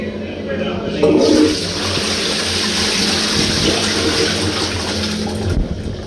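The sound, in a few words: toilet flush with a Doom Bar beer handle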